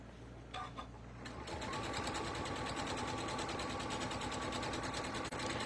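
Sewing machine backstitching a drawstring shoe bag, starting with a few hesitant stitches and then running in a fast, steady close-up rattle.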